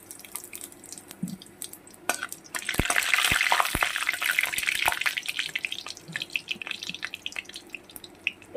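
Dry red chillies and five-spice seeds hit hot mustard oil in a pan, bursting into a loud sizzle that swells and then settles into a softer crackle, with a few sharp taps of a utensil against the pan.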